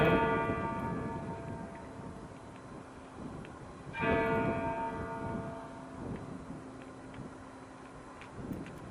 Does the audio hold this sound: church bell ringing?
yes